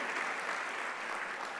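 A church congregation claps together in a dense, sustained round of applause, steady and fairly close, with no voices rising above it.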